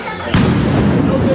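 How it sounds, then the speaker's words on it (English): A single sharp firework blast cracks outdoors at night, a loud sudden boom followed by a lingering rumbling tail. "Is that a firework or I don't even know."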